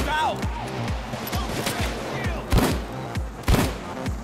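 Gunfire in the video game Payday 2 crackles as rapid bursts of shots and a couple of heavier booming hits, loud and close, with no one talking over them.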